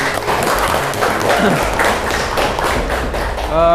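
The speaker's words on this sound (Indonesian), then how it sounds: "Tepuk tangan dong untuk kelompok 2." A room full of people claps loudly and continuously for a student group at a class presentation, with some thumps and chatter mixed into the sustained applause.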